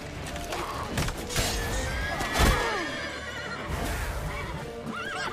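A horse in a video game neighs loudly with a sharp whinny, accompanied by clip-clop hoofbeats and scattered in-game clatter, no talking.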